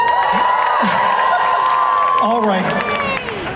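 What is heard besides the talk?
audience cheering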